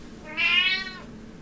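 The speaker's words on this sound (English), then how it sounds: "I apologise for the cat in the background." A deaf cat lets out a single drawn-out, fairly loud meow in the background, with no one talking.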